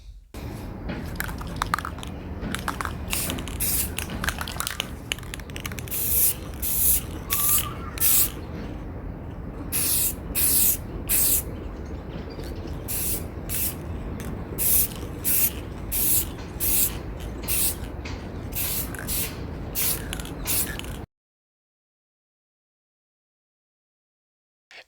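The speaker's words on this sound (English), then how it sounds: "So now I'm just going to do a quick spray with the matte clear coat." An aerosol can sprays matte clear coat over a weathered model diesel locomotive in a spray booth, a close hissing in many short bursts and longer passes for about twenty seconds before stopping.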